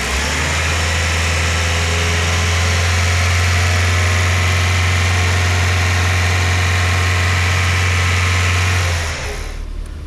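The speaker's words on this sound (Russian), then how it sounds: "Работа двигателя на высоких оборотах." A used Kia Rio engine from the 2011–2017 generation, about 228,000 km on it, runs loud and steady at high revs with a strong droning hum that cuts off near the end, leaving a quieter tail.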